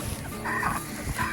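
Chickens cluck inside a chicken tractor on pasture, a close, busy run of overlapping clucks and short calls against an outdoor farm background.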